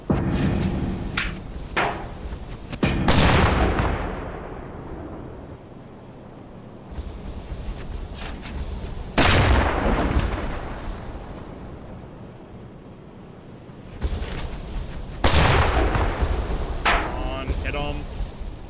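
A U-boat's deck gun fires in the game Uboat, a few heavy booms spaced several seconds apart, each rolling off into wind and sea noise.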